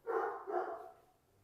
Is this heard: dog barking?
yes